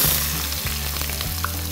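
Whole cumin, mace, cardamom, black peppercorns and cloves crackle in ghee mixed with a little oil, making a loud, steady close sizzle over a low, shifting hum.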